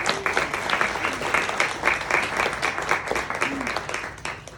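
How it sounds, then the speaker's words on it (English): Applause from a holiday Christmas concert audience, a sustained mass of clapping from a large crowd with faint vocal sounds mixed in, easing off at the end. "Give yourselves a round of applause."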